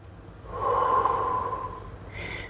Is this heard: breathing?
yes